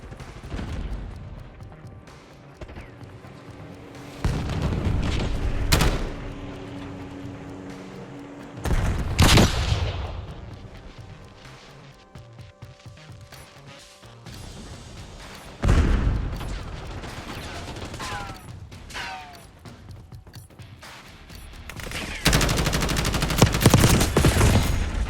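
Gunfire in the shooter Call of Duty: Black Ops 6, scattered bursts of automatic fire and single shots at moderate distance, coming in several clusters with quieter gaps between them.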